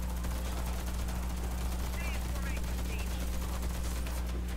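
Gunfire in the online shooter Warface during a survival mode match, a steady stream of rapid shots over constant game noise, with players chatting over it.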